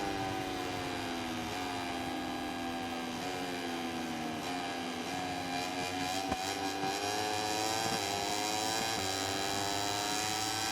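A motorcycle engine in the MotoGP 21 racing game, on the Le Mans circuit in France, drones continuously and loudly, its pitch rising and dipping in repeated surges as the throttle is pulsed through turns, with no talk.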